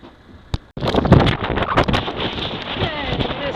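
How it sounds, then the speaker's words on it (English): Wind gusting around a boat riding at anchor in Deltaville, Virginia during Hurricane Sandy, a northeast wind near 15 knots; a sharp knock comes first, then a loud, steady broadband roar of rushing wind with rattling and buffeting that continues throughout. "the wind direction coming right now out of 17 degrees, which is northeast, currently blowing at 15 knots"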